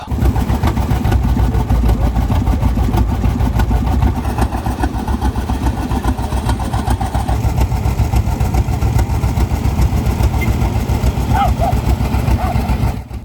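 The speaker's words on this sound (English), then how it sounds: "Some of the tractors warming themselves up." Heavy vintage tractor engines idle steadily nearby at a village show, a loud continuous low throb with a regular pulsing beat that persists without break.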